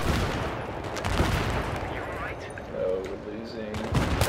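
Mortar blasts and rapid gunfire in a Battlefield 3 32-versus-32 Conquest match on the Bazaar map, sharp bursts and thuds scattered through a dense battle din, with a voice briefly speaking.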